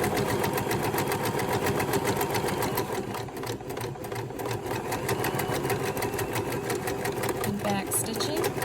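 Sewing machine back stitching a quarter-inch quilt seam, a fast steady mechanical rattle running continuously and close throughout.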